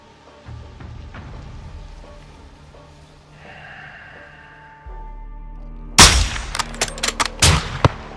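Sharp gunshot cracks from a Modern Warfare 2 sniper mission burst loudly after a quiet stretch of low engine-like hum, several reports in quick succession with echoing tails.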